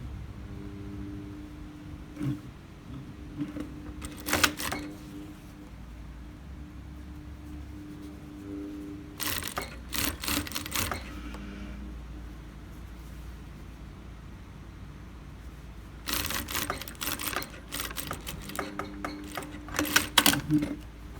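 A sewing machine stitches a shirt shoulder seam at a half-inch allowance in short bursts, with quiet pauses between runs. No one talks.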